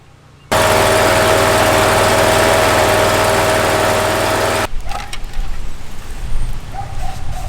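A Simplicity Citation XT mower engine starts abruptly and runs loud and steady for about four seconds while warming up, then drops off to a much quieter, uneven rumble.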